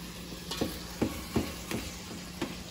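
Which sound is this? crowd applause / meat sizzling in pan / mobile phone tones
meat sizzling in pan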